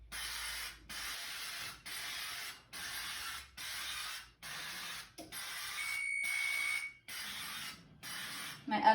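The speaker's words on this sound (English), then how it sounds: "we're going to spray our muffin tins with our non-sticking oil" Non-stick oil sprayed onto muffin tins in a series of about nine short hissing bursts, evenly spaced and close, each lasting under a second, with no speech.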